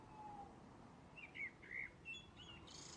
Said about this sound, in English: as you start to hear the birds